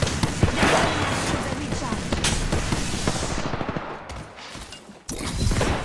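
Rapid automatic gunfire in the video game Apex Legends, loud bursts and fusillades crackling over game sound, thinning briefly before resuming, with in-game voice callouts heard.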